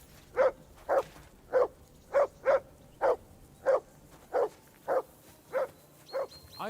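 Repeated single barks from one dog come in an even, insistent rhythm, about a dozen sharp woofs close by and fairly loud, with no voices over them.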